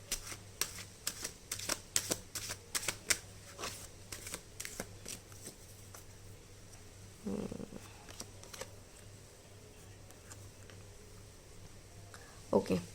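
A deck of tarot cards is shuffled by hand in quick, crisp riffles and snaps, close and fairly quiet, in bursts separated by short pauses.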